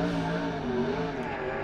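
A TQ midget race car runs around a speedway track in Nelson, New Zealand, its engine a steady, buzzing whine with shifting pitch, heard at a moderate distance and fairly faint.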